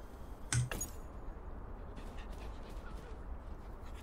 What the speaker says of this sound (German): Ich kann den Hund streichen.